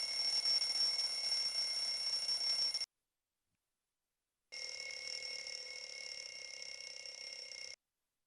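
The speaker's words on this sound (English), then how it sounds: "See what happens to the sound of this alarm clock when you put it in different locations." An alarm clock ringing in two bursts of a few seconds each, a steady bright electronic buzz-ring separated by a silent gap, the second burst sounding more muffled as the clock sits in a different spot.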